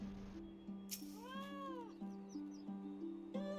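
A cat in Final Fantasy XIV gives a single rising-and-falling meow over a looping game melody of steady synth tones.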